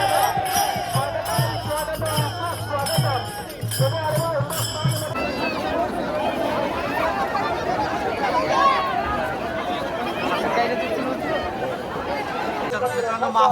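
Dense crowd of pilgrims at the Mauli palkhi procession during the Ashadhi wari, a steady roar of overlapping chatter and hubbub with tinkling bells and a drum-like rhythm in the first few seconds, continuous and close throughout.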